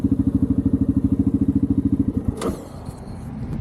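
A Yamaha Grizzly 700 ATV with an aftermarket exhaust tip puts out a steady, close, loud throbbing idle pulse, then revs up sharply and settles into a rougher rumble.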